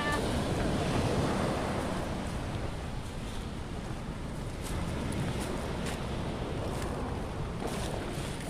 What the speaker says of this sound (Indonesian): Wow, airnya lagi pasang guys. Ombaknya pasang guys.